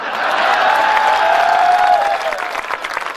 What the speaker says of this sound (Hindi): समझ में आ जाए तो ताली बजाना